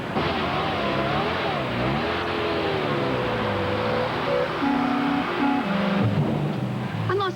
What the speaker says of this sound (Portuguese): A nossa Ferrari atravessa o muro de Roma.